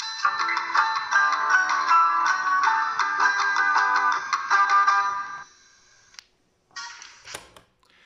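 A loudspeaker with its series capacitor shorted plays a loud, steady melodic test tune of bright repeating notes for about five seconds, followed by a few brief tonal bursts and a sharp click.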